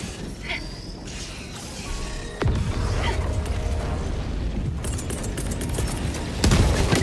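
Helldivers 2 gameplay as a fortification stratagem is called down: mechanical clanks and whooshes, then a heavy thump that gives way to a sustained rumbling roar and a later burst of noise.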